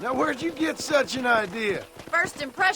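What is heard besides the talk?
No everyday noise stands out behind the speech.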